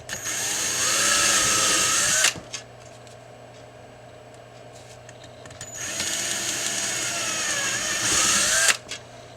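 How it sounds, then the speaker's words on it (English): A power drill bores a hole in an aluminum body panel for a WLToys 12428 RC car, running steadily for about two seconds, stopping, then drilling again for about three seconds, with a high whine over a low motor hum. "be sure you're not drilling a hole too big"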